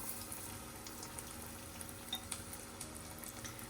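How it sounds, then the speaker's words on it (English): Pieces of Japanese karaage fried chicken frying in hot oil, giving a steady, fairly quiet bubbling crackle with occasional small pops throughout. "They're starting to fry."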